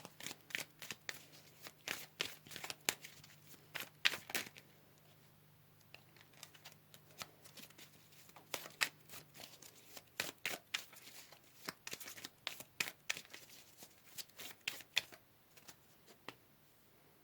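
Tarot cards shuffled and drawn by hand, a long run of rapid, crisp riffling flutters broken by brief pauses, close and clear with no voice over it.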